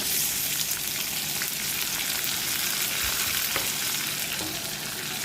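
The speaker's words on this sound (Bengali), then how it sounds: "চিংড়ি মাছগুলো দিয়েও ভালো করে ভেজে নেবো" Prawns fry in a pan with a dense, steady sizzle and crackle close by, light stirring scrapes mixed in, no voices.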